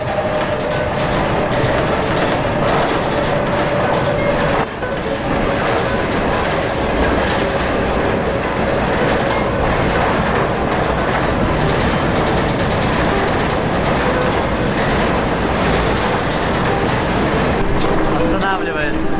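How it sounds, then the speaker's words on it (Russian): A freight train rolls steadily along the rails near Irkutsk at speed, with a constant loud rumble and rhythmic clickety-clack of the wheels. "Поезд разогнался не слабо."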